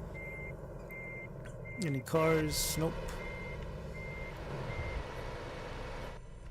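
Truck reversing beeps in the Euro Truck Simulator 2 game, a steady series of beeps over engine rumble, with a person speaking briefly in the middle.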